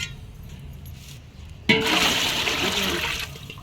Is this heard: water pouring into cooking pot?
yes